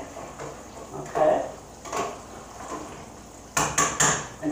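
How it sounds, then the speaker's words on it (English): A spoon stirs rice around a pan on the stove in a home kitchen, giving several separate bursts of scraping and clinking, close and moderately loud, with short quiet gaps between strokes. "Stir the rice up real good so it's going to stick to the pan"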